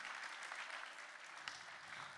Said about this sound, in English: Give everyone a round of applause.